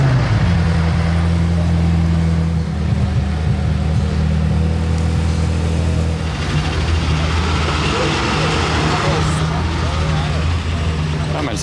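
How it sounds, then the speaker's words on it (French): A McLaren Senna supercar fires up and rolls off amid the street bustle of Monaco, a deep steady engine rumble with low idle tones throughout and passing noise and voices mixed in. "Là, ils vont démarrer la Senna"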